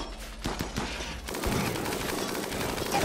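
Rapid bursts of gunfire in the video game RimWorld crackle in quick succession, then give way to a dense, continuous barrage that fills the rest of the moment.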